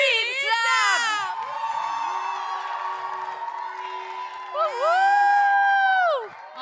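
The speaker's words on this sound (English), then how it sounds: "So, give him a big round of applause. Reed Sapp!" A crowd cheers and whoops loudly for a man being introduced at a live evening show, with high excited shouts rising in two bursts around a steadier roar.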